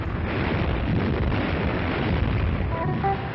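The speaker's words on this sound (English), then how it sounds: "Destroyers answer with depth bombs." Heavy depth charge explosions dropped by destroyers against submarines boom and rumble in a loud, continuous roar with no breaks and no voices.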